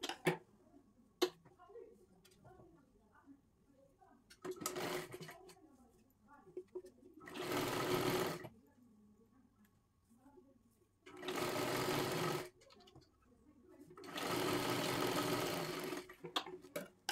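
Sewing machine stitching a blouse lining in three or four short bursts of fast, close whirring, separated by quieter stretches where someone talks.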